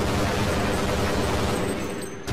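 A tank firing in the video game Half-Life Blue Shift, a loud dense blast of gunfire and rumbling explosion filling the whole moment, close and sustained before fading slightly at the end.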